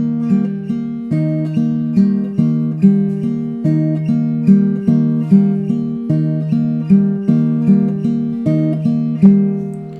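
Acoustic guitar fingerpicked in a steady repeating pattern, individual plucked notes ringing out cleanly and evenly, close and clear with no voices.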